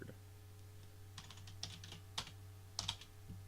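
Key presses on a hand-wired QMK mechanical keyboard, a dozen or so clicky strikes tapped in an irregular rhythm over a steady low electrical hum, close and alone.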